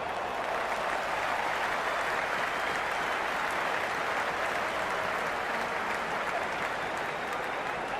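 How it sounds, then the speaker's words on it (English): A cricket stadium crowd at a T20 match between SRH and CSK roars and applauds in a dense, continuous wash of noise, loud and unbroken throughout with no clear voices standing out. "The crowd is electric right now."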